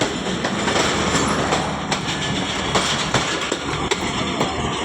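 Rehman Baba Express passenger train passing through Taxila railway station, a loud continuous rumble with rhythmic clickety-clack of wheels over rail joints and occasional squeals, steady and close throughout.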